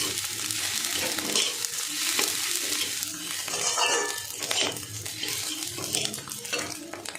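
Saffron being stirred into zarda pulao rice in a pan, a steady close scraping and stirring with a soft sizzle underneath, continuous through the whole stretch with occasional clinks.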